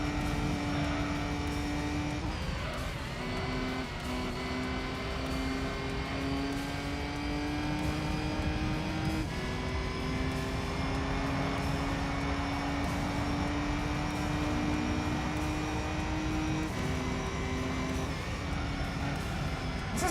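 A slower racing car's engine in Gran Turismo 3 drones loudly and steadily, with its pitch jumping at several gear changes as it holds high revs for a long stretch, no talk over it.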